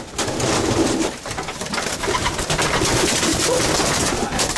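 Racing pigeons coo softly amid a dense background of bird chatter and fluttering, with no voices present.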